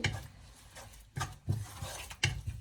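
Salt stirred into brinjal chutney in a pot, a spoon scraping and knocking against the pot in three or four quiet, separate strokes.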